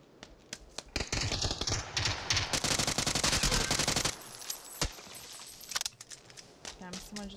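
Rapid automatic gunfire in PUBG, with a long sustained burst of loud shots, then scattered single cracks and short bursts at varying distances.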